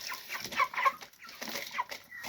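A broiler flock of chickens on day 37 of the cycle, many overlapping soft clucks and chirps forming a busy, continuous murmur, moderately close, with no speech.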